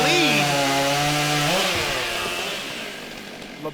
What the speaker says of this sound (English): really squeezing every ounce of power out of that saw. You could hear the RPMs drop off almost to the point of a bog